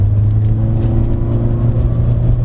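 A Toyota Corolla Cross Hybrid G accelerates in power mode, heard from inside the cabin as a loud, steady low drone with a faint electric motor whine layered on top.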